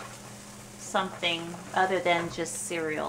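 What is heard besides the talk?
frying potatoes for breakfast burritos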